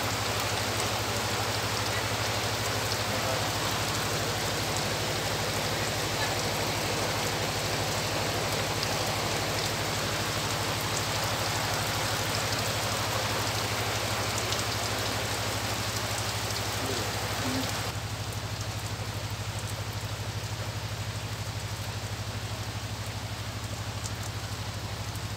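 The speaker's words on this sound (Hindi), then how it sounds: "ऊपर में जो आवाज़ आ रही है बारिश की, मस्त लग रहा है।" Steady, dense rain drums on the roof overhead at a beach campsite, a constant hiss that continues unbroken and softens slightly near the end, with no voices.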